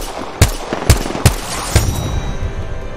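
Apex Legends gunfire cracks out in four sharp, loud shots spaced roughly half a second apart, followed by a faint ongoing hum and scattered background game noise.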